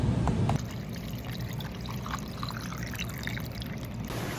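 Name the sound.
lemonade poured into a glass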